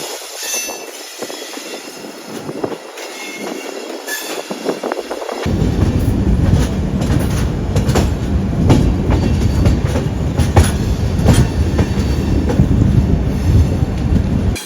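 The Bagmati Express rolls along the rails in India, starting as a lighter rattle and then swelling into a loud, steady rumble with clickety-clack wheel beats and occasional squeals, close and continuous, with no talking.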